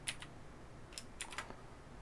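A name is typed on a computer keyboard, producing faint, close, scattered key clicks in small irregular bursts over quiet background.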